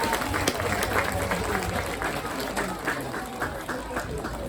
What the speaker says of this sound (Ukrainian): Давайте ще раз оплески